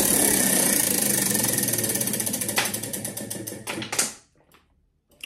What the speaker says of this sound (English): Oh, I got to spin the wheel.